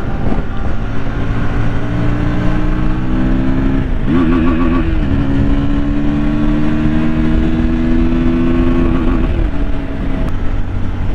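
A KTM 160 Duke motorcycle engine idles and revs steadily up close, its pitch rising and wavering around a brief throttle blip midway, loud and continuous with no talking.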